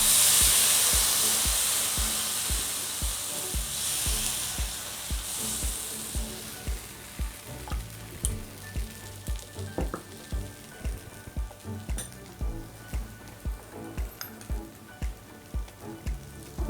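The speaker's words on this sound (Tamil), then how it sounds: "கிண்ணத்தில் இப்படி மாவு எடுத்து இப்படி சுற்றி ஊற்றி விடுங்க." Rava dosa batter poured in a circle onto a hot pan gives a loud, steady sizzle that slowly fades, joined later by regular tapping sounds, with no talking.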